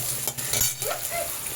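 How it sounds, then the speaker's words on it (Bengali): Chopped onion, ginger and green chilli being stirred in hot oil for a lotte fish chorchori, a continuous loud sizzle with short scraping strokes from the stirring, with no voices. "এবার আমি এই পেঁয়াজ, আদা আর কাঁচা লঙ্কা এটাকে তেলের মধ্যে একটু নাড়ব"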